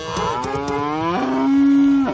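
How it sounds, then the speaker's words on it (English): A cow lets out one long, loud, close moo that rises and holds a steady tone before cutting off, with no talking over it. "Although I don't understand cow talk."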